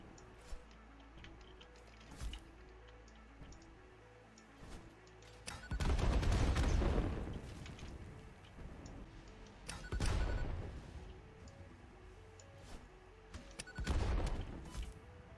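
Explosives blowing up trees in the video game Satisfactory: a few sharp booming blasts at irregular intervals over a quiet background of soft ticking game sounds, with no talking.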